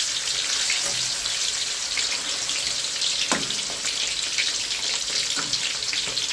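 Frog pieces fry with garlic and pepper in hot oil, a steady close sizzle and crackle that runs unbroken throughout, with a few louder pops scattered through it.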